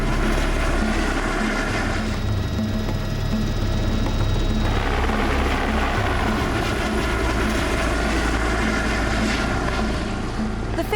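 Loud, continuous helicopter rotor and engine noise, a steady heavy drone throughout.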